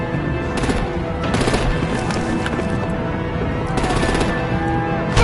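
Artillery fire in the Batman Telltale game rattles out as loud, rapid bursts of automatic gunfire over a constant battle rumble, with short gaps between volleys.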